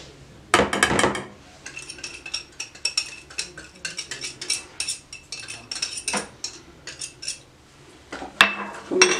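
A spoon clinks and scrapes against a bowl while chicken marinade paste with yellow food colour is stirred and mixed, a busy irregular run of close metallic taps and knocks with a few louder strikes, no talking.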